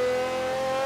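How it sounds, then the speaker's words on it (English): A high-revving engine note from an Aston Martin Vulcan in the racing game Forza Horizon 3, a loud, steady, sustained tone held for under a second with no break. "I drive an Aston Martin Vulcan, and I like to get sideways"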